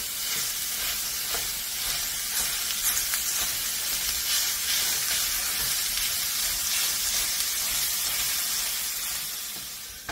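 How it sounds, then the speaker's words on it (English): Sizzling frying of about a pound of ground beef browning in a hot pan, a steady close crackle with occasional stirring, continuous and loud throughout with no talking. "I took about 1 pound of ground beef here, and we're just gonna brown this up."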